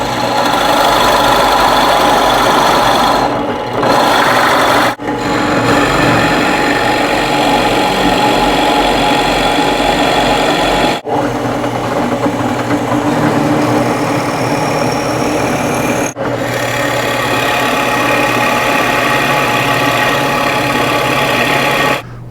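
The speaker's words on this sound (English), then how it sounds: "With all the holes drilled in the correct places in both the leg and the chop" Power drill boring holes through a wooden workbench leg and vise chop while fitting Benchcrafted Hi Vise hardware, a steady loud motor whine running nearly continuously with a few brief pauses between holes, no talking.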